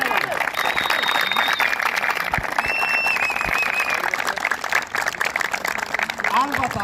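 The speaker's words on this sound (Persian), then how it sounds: "یک تشویق بکنید همین دوستان." Audience applause at a community event, continuous clapping with crowd voices and occasional whistles, steady and fairly loud throughout with talking mixed in.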